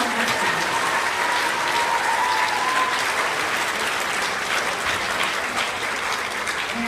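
Sustained applause from a school audience at a 3rd and 4th grade awards ceremony, steady dense clapping filling the room for the full stretch without letting up.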